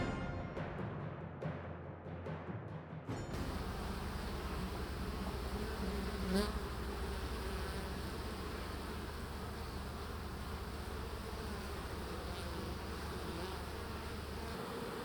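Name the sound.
honeybees buzzing at hive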